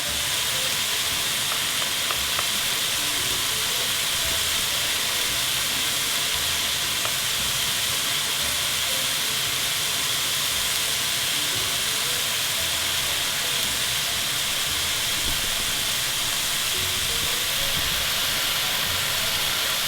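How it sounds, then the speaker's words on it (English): Pork tenderloin searing in an oiled pan for a Japanese honey and garlic dish, a loud, continuous close-up sizzle and hiss that holds steady throughout. "So we've got our pork just searing."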